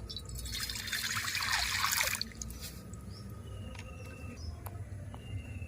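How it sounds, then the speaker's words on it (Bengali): Water pours into a bowl while mixing homemade multani mitti soap at home, a bright continuous splashing stream for about two seconds that stops abruptly, followed by quiet room tone with a few faint drips and clicks. "তার মধ্যে জল দিয়ে দেব"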